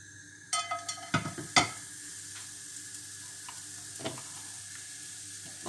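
Shallots hit a little hot oil in a pan with a quick burst of spits and crackles, settling into a soft, steady sizzle close by.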